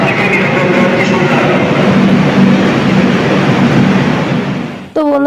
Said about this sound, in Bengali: সেই 2 নম্বর প্ল্যাটফর্ম থেকে ট্রেন চলে এসছে।